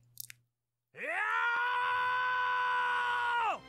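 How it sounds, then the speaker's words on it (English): A character screams in the video game Legend of Sword and Fairy 5 Prequel: one long, loud, sustained tonal cry lasting nearly three seconds, held steady and then cut off, following a short faint sound and a brief silence. "You already had that exact scream"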